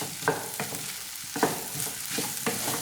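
Sliced onion and capsicum stirred briefly in a hot pan for a sandwich filling, with a few spaced spatula scrapes over a soft, steady sizzle.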